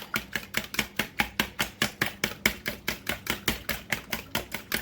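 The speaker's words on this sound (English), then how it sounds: "I'm going to beat the eggs." Eggs being beaten by hand in a small bowl, a fast, steady run of sharp rhythmic taps of a utensil against the bowl, about four strokes per second, close and clear with no talking.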